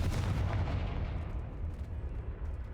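A Confringo blasting curse explodes in Hogwarts Legacy, a heavy, rumbling boom that swells at once and rolls on as a loud, sustained low roar.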